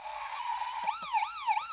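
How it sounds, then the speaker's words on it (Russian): A faint electronic siren warbles in quick rising and falling sweeps over a steady whining motor tone from a Technopark toy police car. "Сирена и звук мотора."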